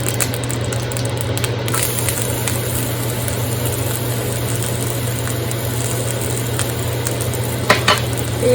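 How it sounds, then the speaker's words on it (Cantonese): Ginger and garlic paste sizzle steadily in hot lard in a wok, a dense continuous crackle with a few scrapes and clinks of a spatula toward the end. "薑蓉蒜蓉起鑊，放啲豬油"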